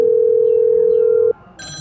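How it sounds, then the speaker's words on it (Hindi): A phone rings with a loud, steady electronic tone lasting over a second, then cuts off, followed by a brief brighter tonal chime. "अरे तुम्हारा फोन आ रहा है यार।"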